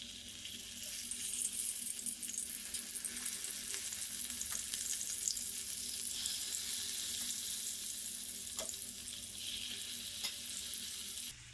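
Okra (ladies finger) sizzles in hot oil in a Kerala-style fry, a steady, fairly quiet crackling hiss with occasional small pops and faint clinks, no voices.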